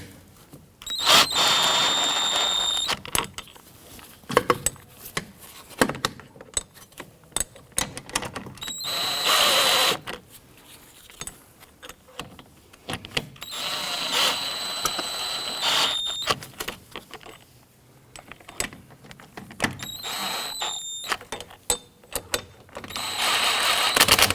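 A power tool drives the rear hub assembly bolts on a 2017-2020 Hyundai Elantra in several short, loud, whining bursts separated by pauses, with ratcheting clicks in between.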